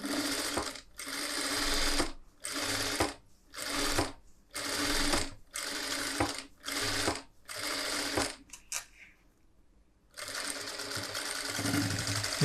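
A sewing machine runs in repeated short bursts, stitching an edge seam on a blouse lining with steady rapid needle chatter, brief pauses between runs, then one longer continuous run at the end.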